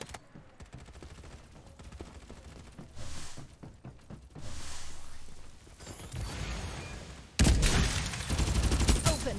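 Gunfire in the Farlight 84 shooter game: scattered shots and rapid bursts that build into a loud, continuous fusillade toward the end, with game effects mixed in.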